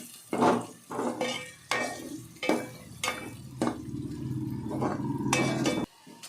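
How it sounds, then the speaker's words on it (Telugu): A utensil stirs fried onion masala and green chillies in a cooking pot, making repeated scraping strokes at a steady pace over a low frying sizzle. "ఇంకా తర్వాత పచ్చిమిరపకాయలు వేసేసుకొని బాగా కలిపేసుకోవాలి."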